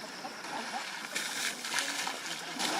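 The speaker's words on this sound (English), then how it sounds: "They are extremely fond of water and love to splash around at every opportunity." Asian elephants splashing in a pool at Mysore zoo, a steady broadband wash of sloshing and splattering water that swells in bursts throughout, fairly close with no clear talk.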